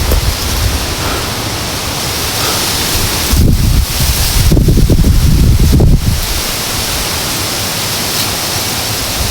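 Strong wind roaring across a mountain summit, a loud, steady rush of buffeting noise with heavier gusts surging in the middle before settling back to a constant blast.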